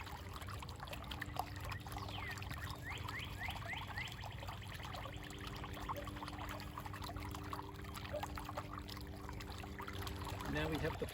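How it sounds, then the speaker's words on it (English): A pond pump runs as water trickles and pours into a filter box in a yard pond, a faint, continuous splashing and dribbling with a low mechanical hum underneath. "then I can plug in the pump, and we can watch the box fill"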